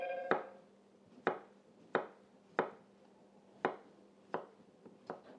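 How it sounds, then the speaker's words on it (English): Knife slicing cucumber thinly on a cutting board, eight crisp chops at a steady, slightly irregular pace, close and fairly quiet. "slice these cucumber slices up pretty thin"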